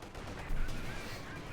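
Gunfire during a Company of Heroes 2 battle as a gun pushes back an engineer squad, a short dense burst of shooting with a brief louder swell in the middle of continuous battle noise.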